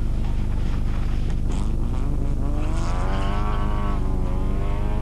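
An Opel rally car at the 1987 24h d'Ypres rally screams at high revs, its engine note rising and shifting steadily. The car is close and loud throughout, with no talk over it.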